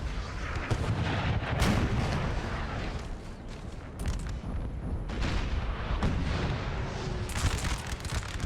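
Dense, continuous battlefield din of repeated cannon booms and rumbling artillery fire in a Napoleonic-era strategy game battle, loud and sustained with overlapping blasts throughout.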